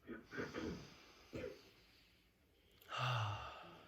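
Someone takes a deep breath: quiet, close breathy inhalations and a longer airy exhale, soft and unhurried with no talking.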